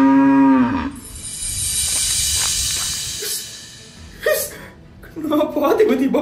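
A very large cow moos at an Eid al-Adha gathering with a long, loud, close call, followed by crowd noise and excited voices.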